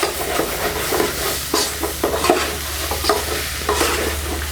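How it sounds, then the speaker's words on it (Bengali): Rice grains stir-fried with spices on medium-low heat give a steady sizzle over a low hum, punctuated by repeated scraping strokes of a spatula against the pan, close and loud. "এক কথায় চাউলটাকে ভালোভাবে ভাজা ভাজা করে নিতে হবে।"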